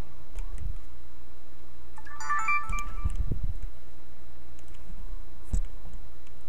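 A Sony action camera powers on with a brief electronic start-up chime of a few tonal beeps, heard close in a quiet room with soft background hiss.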